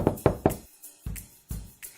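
Knocking on Grandma's house door as a story sound effect: three sharp, close raps in quick succession, then two more spaced knocks, with no voices.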